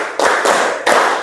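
Three loud, close hand claps in even rhythm from a classroom clapping routine during an Indonesian mathematics lesson, with no talk over them.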